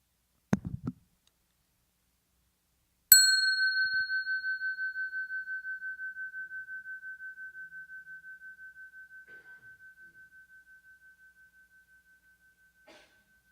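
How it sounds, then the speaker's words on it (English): A fine bell struck once, giving a sharp clear strike and a pure sustained tone that rings out and slowly fades over about ten seconds, in a quiet room after a brief thump. "This is a really fine bell."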